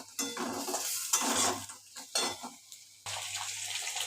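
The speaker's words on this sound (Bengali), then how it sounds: "কষিয়ে নিচ্ছি একটুখানি।" Chicken pakora masala sautéed in a pan, a spoon scraping and stirring in repeated bursts with a soft sizzle underneath, close up and fairly quiet, no voices.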